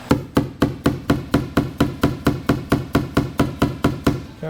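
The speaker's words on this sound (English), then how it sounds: "I'm gonna take a hammer and I'm gonna hit this this knuckled up spot" Hammer taps on a dented, ballooned-out spot of a 1952 Chevy body panel, struck with the pointed end: a steady run of about eighteen sharp metallic blows at an even quick rhythm, close and loud, with no talk.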